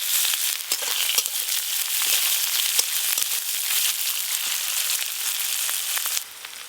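Whole cumin seeds, dried red chilies and chopped onion frying in hot oil for a vegetable dal: a loud, steady, close sizzle with dense crackling and popping throughout, dipping slightly near the end.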